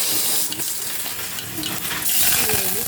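Mustard seeds spluttering in about two spoons of hot oil for a tempering, a continuous sizzle scattered with sharp pops and light metallic clinks of a pan, close and fairly loud.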